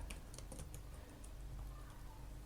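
Quiet, rapid clicking of keys on a computer keyboard as someone types, a steady run of light taps over a faint background hiss, with no talking.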